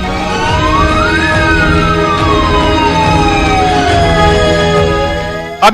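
A wailing ambulance siren sweeps up and down in pitch, loud and continuous, from a car converted into an ambulance, with traffic rumble underneath and a brief knock at the end.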